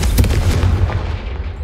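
A loud, booming fire-spell blast from the video game Hogwarts Legacy rumbles with heavy low crackle and slowly fades over under two seconds.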